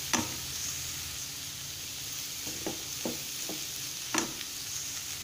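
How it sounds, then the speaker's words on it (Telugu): Cluster beans coated in turmeric and garam masala fry in a pan, giving a steady soft sizzle broken by several scraping stir strokes, with no voices. "దీన్ని ఒక 2 minutes మనం ఫ్రై చేసుకుందాం."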